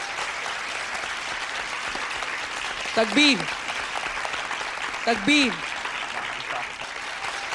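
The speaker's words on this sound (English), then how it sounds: "Can we please have a big round of applause for them?" An audience at an Islamic quiz event applauds the winners with steady, dense clapping throughout, and a man twice calls out a short chant over it.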